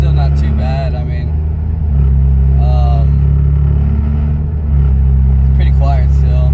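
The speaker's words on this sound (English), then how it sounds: "So for regular driving, I mean, it hums a little bit, but it's still not too bad." Mercedes-Benz C43 AMG track edition in regular driving mode, its exhaust a loud, steady low hum that swells slightly and settles, heard from inside the car with someone talking over it.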